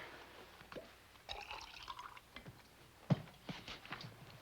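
Water being poured into a glass indoors, heard as soft, faint trickling and dripping with a few small clinks, fairly close and without speech.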